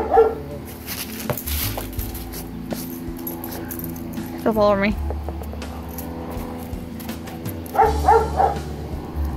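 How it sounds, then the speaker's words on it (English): Neighboring dogs bark a few times in the middle distance during an outdoor puppy birthday, with people talking and praising a dog throughout. "And look at the neighbor dogs."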